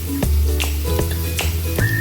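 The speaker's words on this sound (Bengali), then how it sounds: "পেঁয়াজটা একটু ভাজা হয়ে গেছে।" Chopped onion sizzling and frying steadily in an oiled pan, with a few sharp scrapes or stirs at regular intervals and a faint whistle-like tone near the end, heard close with no talking.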